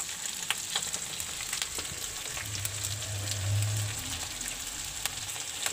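Onions cooking in a pan for paneer chilli give off a steady, close sizzle and crackle throughout, with a few brief stirring scrapes and no voices.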